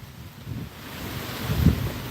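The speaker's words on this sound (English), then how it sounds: "It's starting to get real windy." Wind blows outdoors, buffeting the microphone with a low, uneven rumble that swells and dips, gusting harder toward the end.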